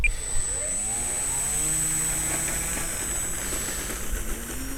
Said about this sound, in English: That's full throttle with the Watt 4 motor, and it's just enough to get it off the ground on this rough surface.